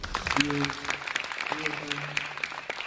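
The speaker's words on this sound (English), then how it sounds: "I just want to give the crew a hand of applause" An indoor audience applauds the crew at a gathering, brief scattered clapping under a voice and crowd murmur, fairly faint and uneven across a few seconds.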